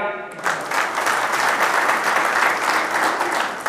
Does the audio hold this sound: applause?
yes